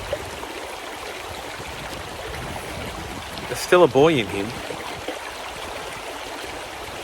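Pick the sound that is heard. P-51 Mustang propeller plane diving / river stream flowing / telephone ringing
river stream flowing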